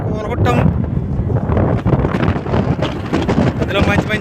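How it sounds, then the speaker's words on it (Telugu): Strong wind rushing across a microphone outdoors in Saudi Arabia, a steady loud low-frequency roar with fluctuating gusts throughout, with a voice faintly present underneath. "అక్కడ గాలి వేస్తుంది. అందుకే కొంచెం వీడియోలో వాయిస్"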